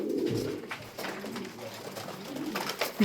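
Tumbler pigeons coo close by, low rolling calls repeating one after another over a faint background, with no talking.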